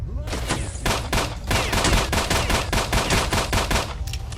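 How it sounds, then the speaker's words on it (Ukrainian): Bandits firing at the player in S.T.A.L.K.E.R.: Shadow of Chernobyl: loud, rapid bursts of automatic gunfire, dozens of sharp shots in quick succession with short pauses between bursts. "Так вони ще й по мені вже шмаляють"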